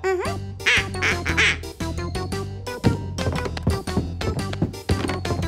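Cartoon duck from a Pocoyo animated episode quacking repeatedly in a rapid, expressive stream, loud and close, with squeaky voiced inflections and music-like tonal patterns.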